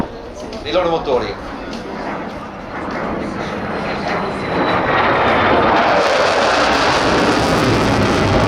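Two F-35 fighter jets pass over the Jesolo air show, their engine roar building steadily from a moderate rumble into a loud, sustained broadband wash, with a public-address announcer's voice briefly audible near the start.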